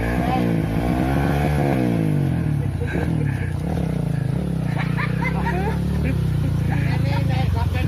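A motorcycle rides past with a loud, continuous engine drone that shifts in pitch, while voices chatter over it throughout.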